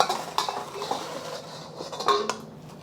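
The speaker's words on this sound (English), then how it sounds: "Transferring the eggs back to the bowl." Cooked eggs are scraped from a steel pan into a bowl, giving close metallic clinks and spatula scrapes with a faint sizzle behind them, brief and fairly clear.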